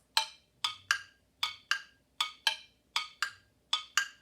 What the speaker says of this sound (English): So I'm going to put these two instruments together, the agogo and the crow, to create kind of a Western rhythm